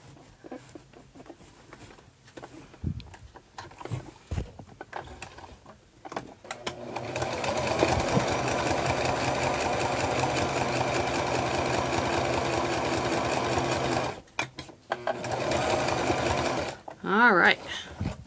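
A sewing machine runs steadily for several seconds while quilting fabric, a loud continuous mechanical whir after brief stop-start bursts and handling noise, with a short voice near the end.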